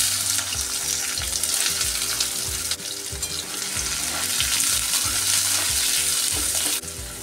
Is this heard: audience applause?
no